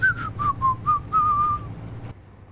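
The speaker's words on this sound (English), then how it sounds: "Oh, I whistle while I drive." A person whistles a short tune while driving in the space game Space Engineers, clear, close melodic notes in a few bouncing phrases, over a low steady rumble, ending abruptly.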